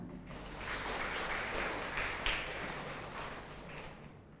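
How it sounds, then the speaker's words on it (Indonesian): Steady applause from a church congregation, a dense patter of clapping hands lasting several seconds at moderate volume. "Tepuk tangan."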